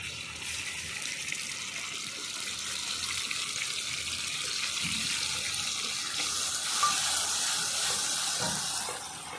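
Onion, whole chillies and mustard paste fry in oil for a Bengali mrigel fish curry, giving a soft, steady hissing sizzle that swells slightly toward the end.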